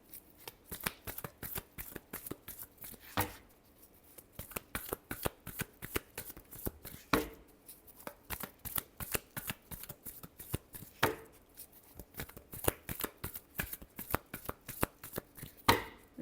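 Tarot cards are shuffled in rapid bursts of crisp riffling flutters, repeated steadily with brief pauses between rounds, close and fairly quiet, with no talking.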